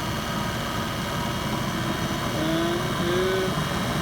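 A rebuilt Mercedes 190SL engine idles steadily at about 1300 RPM during distributor timing checks, a continuous low drone with a faint rising whine near the end and a single brief spoken word.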